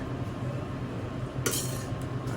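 Fork twirling Bolognese pasta on a plate, soft steady scraping with a bright metallic clink of cutlery against the dish partway through.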